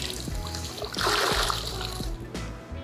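A mud-covered sponge is dipped into a bucket of rinseless car wash solution, making a close, wet splash and slosh that swells for about a second and then settles into faint dribbling.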